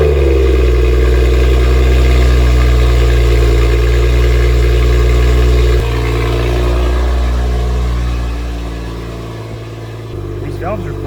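The engine of a wrecked 2023 Toyota Supra runs loud and close on its first drive, a heavy steady drone that eases off partway through, then a brief lift and a small squeal near the end.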